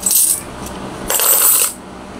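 A Philippine 5-peso coin from 1996 dropped onto a hard surface, giving two bright metallic rings, one at the start and another ringing longer about a second later, close and clear with no talking.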